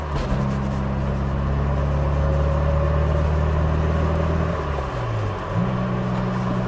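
Steady idle of a 2-liter 3S-GTE turbo engine in a Toyota MR2 Turbo, a smooth continuous low drone with a slight pitch dip near the end, close and loud with no talk.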